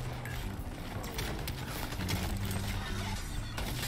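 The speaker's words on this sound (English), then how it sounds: "I hear footsteps, but where are you?" Footsteps in the first-person shooter video game Shatterline, a quick run of hard rhythmic impacts close by over a steady low hum and game ambience, without any talk.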